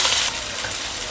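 Chopped onion hits a ladle of hot oil for paneer roll stuffing, giving a loud burst of hissing sizzle that settles into a steady frying crackle.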